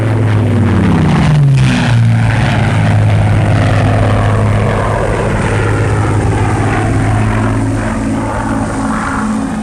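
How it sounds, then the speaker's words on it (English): Fleet Air Arm planes skimming low over the sea in a mock torpedo attack, a loud roaring propeller engine drone that swells close by with a falling pitch sweep as an aircraft passes, then a sustained engine rumble. "the planes skim the waves in a mock torpedo assault"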